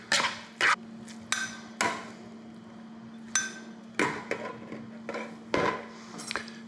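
Scallion noodles tossed with the scallion greens in a bowl, a series of sharp utensil clinks and knocks against the dish in an irregular rhythm, close and moderately loud over a quiet steady hum.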